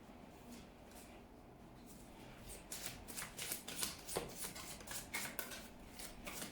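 A deck of cards is shuffled close by, softly at first, then a rapid run of crisp riffling flutters that repeats several times at a low level.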